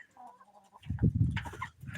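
Chickens at nipple waterers making soft clucks, followed by louder, busier clucking and scratchy calls nearby, with no talk.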